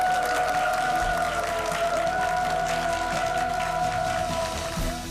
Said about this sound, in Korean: 사장님 모시겠습니다. 큰 박수로 맞아주세요.